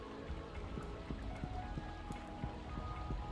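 Rain falling in the Stardew Valley video game, a soft steady patter with scattered light drops over quiet game music, fairly faint and with no talking.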